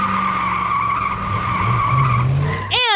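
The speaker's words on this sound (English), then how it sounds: "this car shot out of the parking spot heading right for me" Car tires screech loudly as a car shoots out of a parking spot, with a sustained squealing skid over engine noise and sharp rising squeals at the end, in an animated storytime scene.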